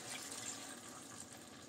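A small glass of water splashes into a hot cooking pan, producing a brief, close gush and fizz of liquid that fades slightly.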